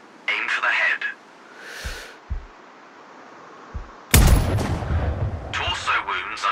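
A sniper rifle shot in Sniper Ghost Warrior Contracts, one sharp loud crack followed by a rolling tail, with earlier faint thumps and bursts of voice before and after the shot.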